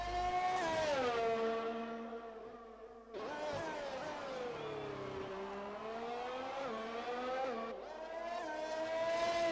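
Race car engines whine and rise and fall in pitch in a Formula-style racing video game on the Singapore circuit, one car's engine prominent with gear shifts and another car passing nearby.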